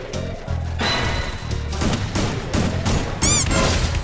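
An exchange of gunfire in a shooter video game, with irregular sharp shots and crashes over a busy backdrop of game sounds and a low rhythmic music bed, moderately loud.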